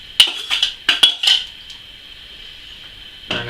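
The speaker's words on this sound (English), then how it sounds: "Going to give that a nice stir." A spoon stirs a pot of rice and koji sake mash, giving several sharp clinks and scrapes in a quick uneven run, then a quiet pause before one more scrape near the end.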